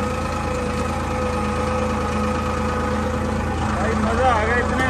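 A farm tractor's engine idles steadily outdoors at a field, a constant low rumbling hum with faint knocking, moderately loud throughout with a brief higher whine near the end.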